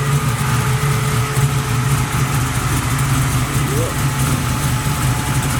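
A small block V8 in a Buick Regal idles with a steady, close, low rumble, and someone briefly speaks over it.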